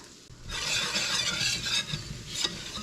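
Flour stirred into leftover meat grease for gravy in a pan: a close, soft, steady scraping and sizzling hiss that swells over a few seconds.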